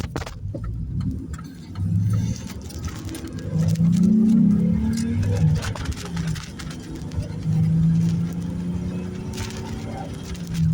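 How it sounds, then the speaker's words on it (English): An engine revs early in the morning with a low, throbbing hum that swells and eases in repeated surges. It stays loud and fairly close throughout, with light background clatter. "if you can't hear the revving of the engine"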